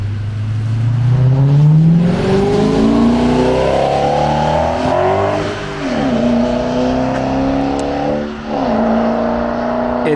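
A Honda car engine revs loudly while driving, rising and falling in pitch through repeated gear changes, with throttle dips around the middle and near the end and no talking.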